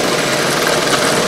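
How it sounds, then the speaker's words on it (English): A milling machine runs an end mill at around 1500 RPM while cutting metal hinge parts, a loud, continuous, even whir and hiss with no breaks or talking. "I've got that little end mill cruising along around"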